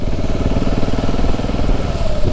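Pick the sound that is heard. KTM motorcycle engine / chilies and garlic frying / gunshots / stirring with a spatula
KTM motorcycle engine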